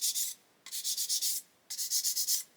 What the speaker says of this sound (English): So we're just going to sand that until the pen is gone.